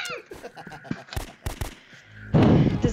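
Hip-fired gunfire in a video game, a burst of short shots followed by a louder noisy blast near the end, with little speech.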